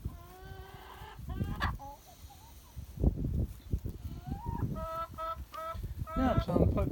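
A flock of chickens clucks and squawks nearby in repeated bursts, with a goose-like honk mixed in and occasional handling noise; no one speaks.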